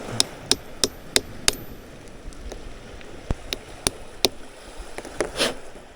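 Sharp hammer taps splitting a fossil-bearing rock, a quick run of evenly spaced knocks followed by scattered slower strikes over a faint hiss of background noise.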